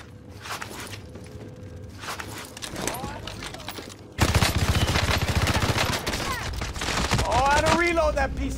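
Video game gunfire crackles in rapid bursts, distant at first, then a dense, loud volley of shots fills the second half, with the sound of footsteps and a voice calling out.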